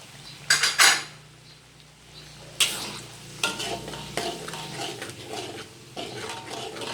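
Chili and golden fried onion hit hot oil with cardamom, curry leaf and spices, giving loud sizzling bursts followed by repeated scraping and clattering as a utensil stirs the pan.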